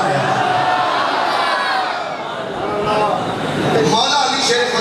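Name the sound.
crowd chanting Mola Ali slogans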